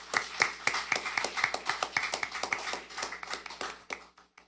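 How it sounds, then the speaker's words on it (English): Scattered applause from a small audience at a junior science quiz for a contestant, sharp hand claps in an uneven patter that gradually thins out and fades over a few seconds. "Give him a round of applause."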